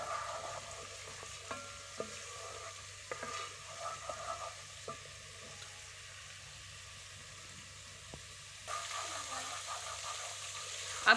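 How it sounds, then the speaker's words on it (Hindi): Whole garam masala frying with minced keema in a pan, a quiet, low sizzle with scattered soft clinks and stirring scrapes, growing a little louder near the end, without speech. "अब हम इसमें साबुत गरम मसाला डाल देंगे और इसको भी इसके साथ फ्राई करेंगे।"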